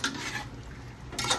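A spoon turns chicken pulao masala with tomato and fennel powder in a pot, giving a brief close scrape and stir over a faint sizzle, with a louder scraping burst near the end and no voices.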